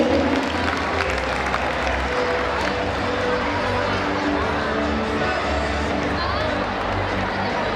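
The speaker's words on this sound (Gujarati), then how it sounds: "ફરીથી એકવાર તાળીઓના ગડગડાટથી તેમને વધાવી લઈશું" At a school annual day function, an audience breaks into dense, sustained applause. The clapping fills the hall at an even level throughout, mixed with crowd murmur and a few voices.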